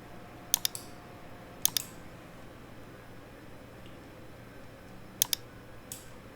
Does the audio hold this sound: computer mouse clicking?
yes